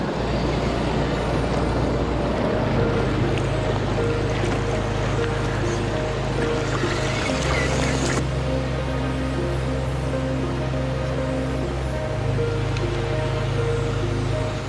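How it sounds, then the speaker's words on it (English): An Element Enduro Bushido 4x4 RC crawler running on a Helios 2S pack drives with its wet tires spinning, giving a steady motor whine over a constant rushing noise, with shifts in tone as the wheels slip. "A little wheel spin from the wet tires."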